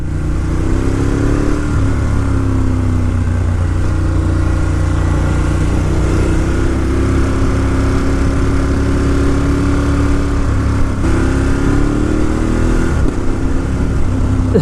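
A 2018 Ducati Monster 1200S being ridden, the engine drone loud and steady with rising and falling pitch through gear changes, over constant wind rush; no clear exhaust pops stand out.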